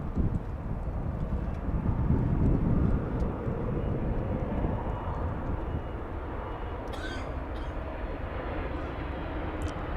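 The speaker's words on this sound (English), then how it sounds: "It's the plane that sounds like a train for some reason." A Max Air Cargo plane passes at Los Angeles International Airport, a broad rumbling roar that swells in the first few seconds and then fades into a steady distant drone, with faint wind noise.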